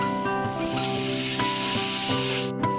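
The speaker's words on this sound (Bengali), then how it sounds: "দিয়ে ভালো করে মশলাটা কষিয়ে নেব" Spice paste for a rohu fish curry with flat beans and eggplant sizzles steadily in a pan, loud and close, with regular scraping strokes of a spatula stirring through it and no voices.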